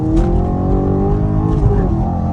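An Infiniti G37x in sport mode gives a short, loud, close-up rev, with a strong engine note rising and falling over a couple of seconds.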